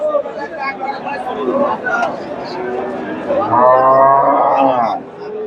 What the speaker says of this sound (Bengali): ক্রোসের গাভী আর বোকনা বাচ্চা গাভি